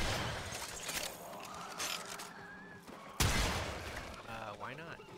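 Gunfire from the video game Warframe crackles in fast bursts, with a sharp loud blast about two-thirds through amid ongoing game effects, while players talk over it.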